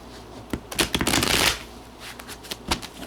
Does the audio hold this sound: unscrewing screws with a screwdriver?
no